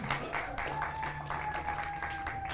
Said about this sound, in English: Give them a round of applause from the New Hackensack Fire Company.